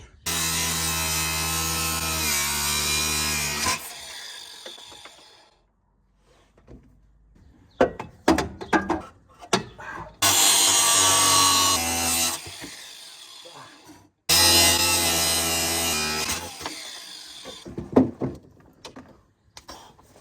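Angle grinder cutting metal up close, with several loud sustained bursts of harsh high whine separated by pauses filled with clanks and handling knocks.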